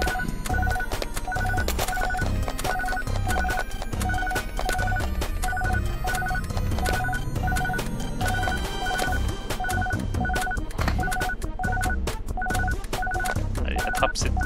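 In the video game Captain Neckbeard, a telephone rings in repeated evenly spaced electronic bursts, loud and continuous over busy, dense game music and noise.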